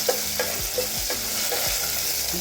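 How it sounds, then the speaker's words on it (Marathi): Curry leaves crackle and sizzle in hot oil, with a steady frying hiss and a few soft scraping stirs of a spoon against the pan. "कढीपत्ता टाकल्यानंतर तो कढीपत्तासुद्धा आपल्याला थोडा चांगला परतून घ्यायचा आहे"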